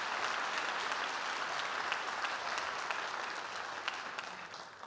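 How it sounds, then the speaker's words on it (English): Sustained round of applause from an audience at a high school baccalaureate ceremony, dense and even, heard from a distance and gradually easing slightly toward the end. "Please join me in a round of applause for all of it."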